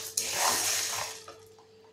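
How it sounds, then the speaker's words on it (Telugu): Roasted black gram (urad dal) washed in water: a brief splashy rush of running water that swells and then fades over about two seconds, fairly close, with no speech. "వేగిన తర్వాత ఈ మినుముల్ని ఒక 4 సార్లు కడగండి"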